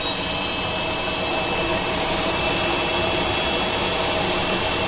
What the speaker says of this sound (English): This is the sound for 4-jet engines, but just when they're idle.